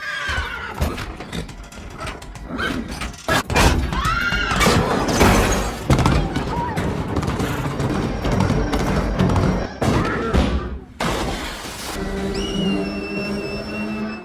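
A horse aboard a ship turns violent and breaks free of its restraints, whinnying and neighing loudly amid thuds, crashes and a tense, dramatic music score.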